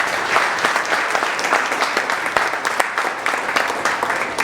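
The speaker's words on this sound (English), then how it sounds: "Let's give them a round of applause." A debate audience gives the candidates a round of applause, steady, fairly loud clapping from a sizable crowd with distinct individual claps standing out throughout.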